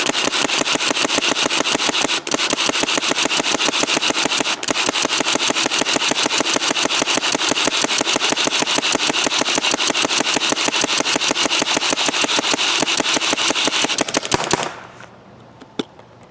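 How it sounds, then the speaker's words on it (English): An M1 mechanical paintball hopper feeds balls during rapid continuous firing, giving a dense rattling stream of sharp clicks and shots for about fourteen seconds before stopping abruptly, loud and close with no talking. "we're going to see if one complete wind actually empties the"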